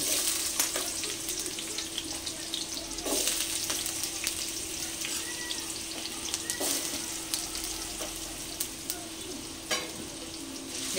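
Potatoes sizzle in hot oil tempered with cumin seeds and a bay leaf, a steady crackling hiss broken by a few sudden louder bursts as pieces hit the pan.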